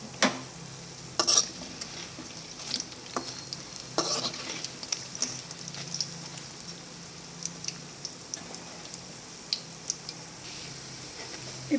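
Baby corn bajji fry in hot oil with a steady, soft sizzle and faint crackles, broken now and then by a few stirring clicks, and no one speaking.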